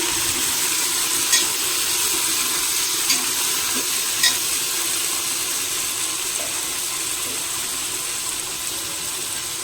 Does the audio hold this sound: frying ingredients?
yes